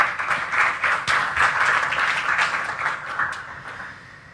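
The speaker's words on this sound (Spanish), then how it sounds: "Y otro aplauso al Señor por eso." A church congregation claps together, a moderate wash of applause with a few sharper claps standing out, slowly easing off.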